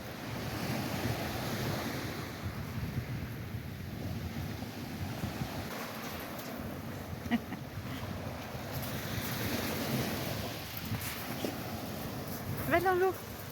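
Surf washing onto a secluded beach on a wild, rugged coast near Aguilas, a steady broad wash of breaking waves mixed with wind buffeting the microphone, with a dog and a person faintly heard at moments.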